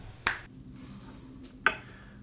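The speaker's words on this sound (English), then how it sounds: "I'm just gonna snap my fingers and we'll see where we end up." Two sharp finger snaps ring out about 1.4 seconds apart, each a crisp, close transient with a brief room tail, and quiet room tone between them.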